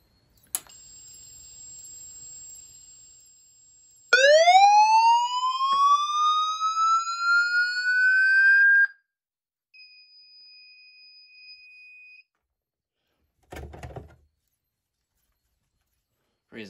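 A vintage Honeywell fire alarm system sounding during a test: a sustained electronic tone, then a loud rising whooping siren sweep holding several seconds, followed by a fainter steady tone and a brief burst of noise near the end.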